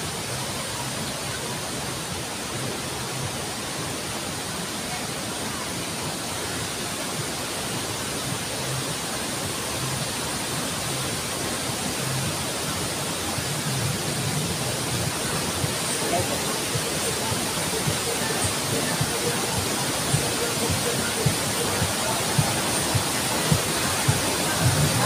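Steady roar of a waterfall at the second falls of Tinuy-an, a dense, unbroken rush of water that fills the whole stretch at constant loudness with no pauses.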